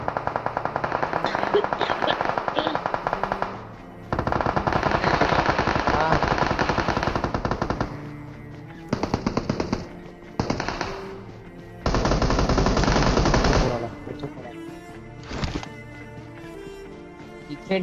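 Bursts of automatic gunfire from the shooter game PUBG Mobile during a squad fight in an apartment building, with long sustained volleys and short pauses between them, loud and dense.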